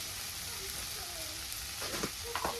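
Finely chopped tomatoes fry in oil with a soft, continuous sizzle, joined near the end by a few light stirring scrapes.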